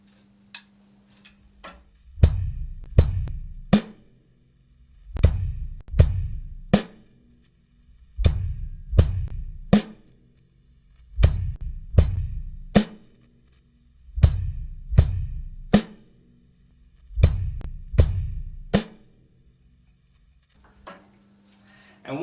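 Slow eighth-note drum groove on a kit, kick drum beats paired with snare hits in short repeated phrases, about seven bars with brief pauses between them, clear and close with no voices.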